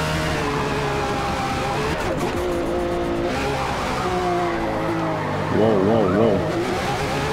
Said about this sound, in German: ihr hört es ja am Turbogeräusch, dass ich ja nur das Gas antippe und der schießt da los wie sonst was